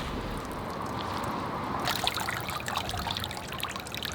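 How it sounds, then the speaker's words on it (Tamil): Sorrel leaves are rinsed by hand in water, giving faint sloshing and trickling that grows into livelier splashing and dripping halfway through, with no talk. "நல்லா ஒரு 2-3 தடவை தண்ணியில் அலசி எடுத்துடுங்க."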